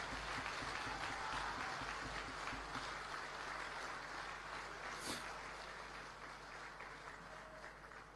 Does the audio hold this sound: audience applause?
yes